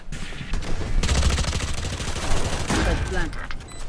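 Rapid automatic gunfire in VALORANT, shot through a wall, a dense loud burst of fire running for about three seconds with a short break, while players talk excitedly over it.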